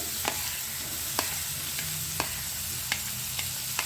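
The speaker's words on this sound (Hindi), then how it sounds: "अब मैं इसमें जो अपने प्याज हमने काटे थे और हरी मिर्च ऐड कर रही हूँ।" Chopped onions and green chilies frying in a pan for pav bhaji, a continuous sizzle with regular spatula taps and scrapes recurring about once a second.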